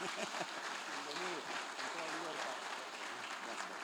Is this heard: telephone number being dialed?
no